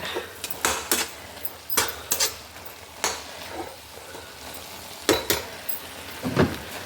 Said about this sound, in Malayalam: ചീരച്ചേമ്പിൻ്റെ തോരൻ വെന്താ നോക്കാം ഒന്ന് ഇളക്കി കൊടുത്തിട്ട്